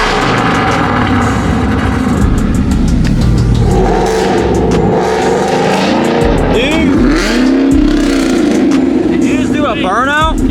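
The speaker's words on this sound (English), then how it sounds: "Grace is trying to give me baby revs and make me go deaf" A Ford Mustang S197 revs loudly nearby in short bursts that climb and fall, its rough engine roar running continuously beneath overlapping chatter from people standing close by.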